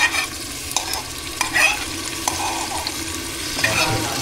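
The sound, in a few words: stirring tomato puree and onions frying in pan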